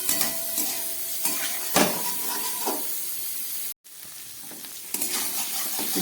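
Cumin and chillies sizzle in hot oil in a pan for a hilsa fish head curry with taro: a loud, steady frying hiss with stirring scrapes, broken by a brief silent gap midway.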